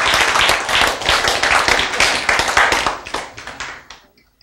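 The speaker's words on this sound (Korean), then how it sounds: "박수! 와!" An audience claps briskly in unison for several seconds, the sharp dense claps loud and close before tapering off to silence at the end.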